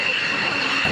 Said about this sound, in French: Regarde l'avion, il a atterri.